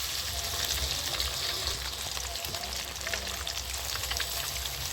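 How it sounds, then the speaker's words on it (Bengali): Quieter continuous crackle and spatter of rui-type carp fish frying in mustard oil, a dense, rain-like hiss with scattered pops and a low hum underneath. "মাছগুলো আমি ছেড়ে দিচ্ছি আস্তে আস্তে মাছটা ভাজা হতে থাকে"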